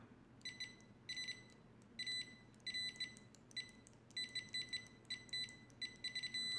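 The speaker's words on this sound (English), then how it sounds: "Next up, one of my favorites, the continuity test." An ISO-TECH IDM 63N multimeter sounds its continuity tester with its default leads, giving a quiet run of sharp, high electronic beeps in irregular bursts of varying length, separated by brief silences.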